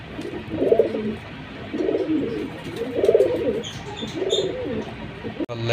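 Pigeons coo in a slow repeating rhythm, about four soft throaty calls, close by with faint chirps in the background.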